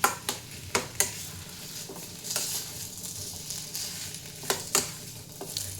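Potatoes are stirred with spices in a hot pan for vada pav filling, with a soft continuous sizzle beneath sharp intermittent scrapes and taps of a spoon against the pan.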